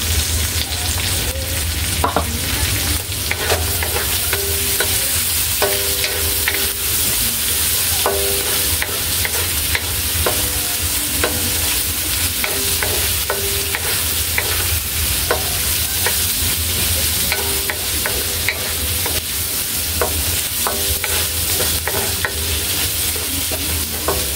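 Ground meat and sayote sauté in a hot pan, with steady loud sizzling and frying throughout and repeated scraping and stirring strokes of a spatula against the pan.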